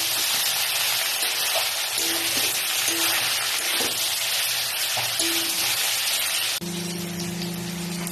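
Cauliflower and potato stir-fry in a pan with a dense, loud, rain-like sizzle, punctuated by occasional stirring scrapes and a faint tonal hum that strengthens toward the end.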